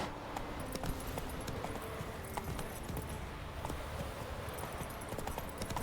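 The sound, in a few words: horse Roach galloping hooves, from a video game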